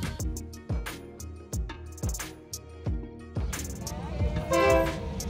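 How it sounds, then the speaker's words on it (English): A train comes through a crowded railway market in Thailand with repeated sharp horn blasts at a steady rhythm, then a denser clattering rumble as it draws near. "Oh, the train is coming."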